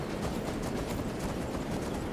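Horse hooves clip-clop steadily in modded Skyrim, a continuous close trotting rhythm with a dense, busy game soundscape and no pauses.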